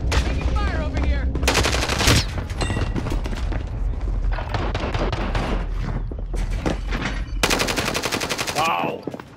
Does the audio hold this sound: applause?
no